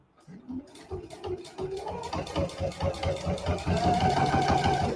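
A Husqvarna Viking Epic 95Q sewing machine stitches on fabric carriers, its motor building from a soft start into a steady, fast rhythmic whir of needle strokes, close and moderately loud, with no talking.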